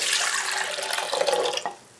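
Room-temperature water pours steadily from a tap into a bowl of active dry yeast for steamed bun dough, a close, continuous splashing stream that fades out at the end.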